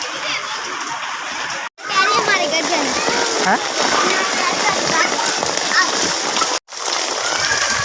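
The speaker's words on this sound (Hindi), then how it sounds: "और अब यहाँ भी बारिश शुरू हो गई है।" Steady monsoon downpour hisses and splatters continuously at close range while children chatter and play in the water, the rain holding a constant dense wash under their voices.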